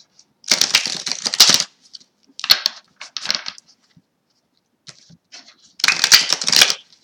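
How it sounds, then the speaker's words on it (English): Tarot cards from a Morgan Greer deck shuffled and drawn by hand, with a few bursts of close crisp riffling and sliding, separated by short quiet gaps, no voices. "I'm just going to get one more card from the Morgan Greer deck"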